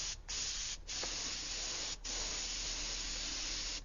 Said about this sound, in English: I spray slightly away from the edge if I can